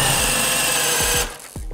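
A Panasonic brushless drill with a fairly blunt 32 mm bit grinds loudly through a very hard knot in wood, the motor straining under load, then cuts off abruptly and slows in a few short winding-down pulses.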